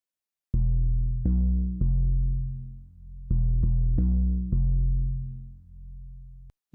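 A sample played melodically in chromatic mode on a Roland SP-404MKII sampler: six plucked, decaying tonal notes at varying pitches, in two groups of three, clean and close with no voices.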